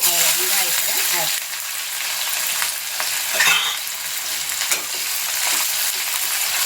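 Mustard seeds and urad dal frying in hot oil for a potato rice tempering, a loud dense sizzle crackling steadily throughout with faint stirring scrapes, close up, and a brief voice at the start.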